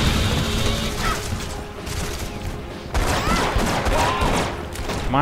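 Sustained gunfire rattles through a firefight in the video game Red Faction Guerrilla, loud bursts and crashes layered with mechanical clatter, pausing briefly midway before resuming at full intensity.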